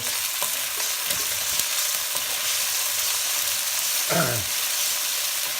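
Garlic frying over low heat in a pan for pancit bihon guisado, a steady close sizzle with scattered stirring clicks and a brief sliding scrape near the end, no talking.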